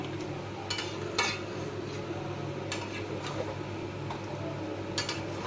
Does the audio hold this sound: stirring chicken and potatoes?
yes